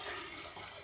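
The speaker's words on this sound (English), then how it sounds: "So we're just going to pour the water in there instead." Water is poured into a container, making a steady close splashing and gurgling flow that runs throughout the short moment without any talk.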